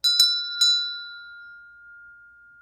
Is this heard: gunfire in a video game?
no